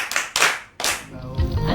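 A group claps for a child in quick bursts of applause, a couple of loud close rounds separated by a brief pause, with a voice faintly audible underneath toward the end.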